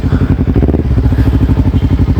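A used motorcycle fitted with a cheap aftermarket knalpot exhaust idles up close, a loud, steady, throbbing burble with an even pulsing rhythm throughout.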